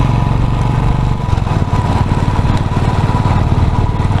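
A Royal Enfield Bullet motorcycle is ridden up Agumbe Ghat, its engine giving a loud, steady, close thumping drone that holds without a break throughout, with no talking.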